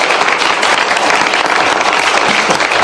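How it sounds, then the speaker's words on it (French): An audience applauds loudly and continuously, a thick, even roar of clapping hands that fills the whole three seconds without a break. "Je vous demande de l'applaudir, David Goodman."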